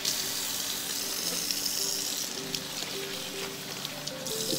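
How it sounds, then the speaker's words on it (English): Cold tap water runs steadily over a lace frontal wig during rinsing, a continuous close hiss and splash of flowing water with no talking. "you want to wash her with very cold water. That's what I'm going to go ahead and do right now"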